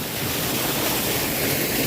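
The waterfall at Minca, Colombia, sends up a loud, steady roar of rushing water, a dense unbroken wash that fills the whole stretch with no voices over it.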